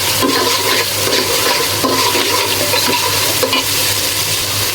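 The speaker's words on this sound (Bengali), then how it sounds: "বাদামটা ভালো করে তেলে ভেজে নিব" Nuts fry in hot oil for a chicken biryani, a loud continuous sizzle with stirring scrapes mixed in.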